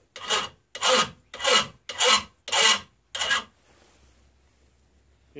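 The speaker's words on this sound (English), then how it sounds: "So very carefully file down" A metal file rasps against the end of a copper pipe in six steady, even strokes, loud and close, followed by near silence.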